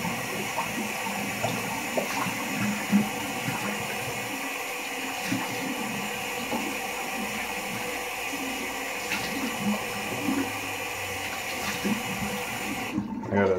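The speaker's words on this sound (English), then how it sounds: "I'm going to quick cold water rinse" Cold water runs from a tap into a sink during a wet shave, a steady close hiss and splash lasting throughout with small bumps of handling, cutting off abruptly at the end.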